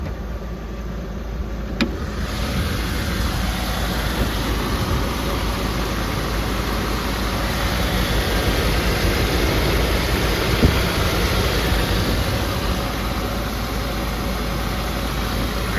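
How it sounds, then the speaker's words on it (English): A 2004 Land Rover Discovery engine idles steadily at operating temperature outdoors, a constant low rumble with broadband hiss and no speech, plus one brief click near the start. "Sorry, the engine now that it's at temperature."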